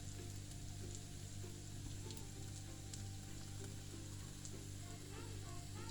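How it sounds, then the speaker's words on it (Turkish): Steady, even sizzling of a gözleme flatbread frying in a pan, a constant hiss and crackle that continues without pause. "Öteki tarafta aynı şekilde kızartalım."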